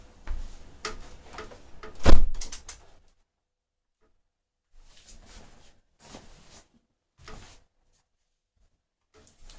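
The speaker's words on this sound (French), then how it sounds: "Je vais fermer la porte. Enfin, la fenêtre." A window is pulled shut in a room, with a couple of scraping and thumping knocks up front, followed by quieter intermittent clicks and rattles.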